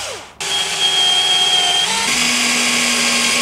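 An electric drill fitted with a 3.5mm bit drills bolt holes during a camper van solar installation, starting abruptly and holding a loud, steady whine with a pitch shift partway through.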